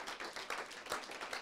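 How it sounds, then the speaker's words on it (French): A church congregation claps and cheers in praise, the bursts of clapping dense and fairly quiet, with a few louder swells. "Donne des très grandes acclamations au Seigneur."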